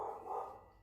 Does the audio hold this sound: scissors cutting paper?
no